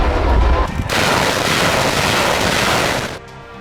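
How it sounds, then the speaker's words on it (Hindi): Indian Army artillery guns, mortars and rockets firing in a drill, a loud continuous roar of blasts and rumble that fills the sound for about three seconds before cutting off abruptly. "बंदूक, मोटार, रॉकेट की बेहद मारक शक्ति, भारतीय सेना के तोपखाने के बल का घातक और सटीक प्रदर्शन।"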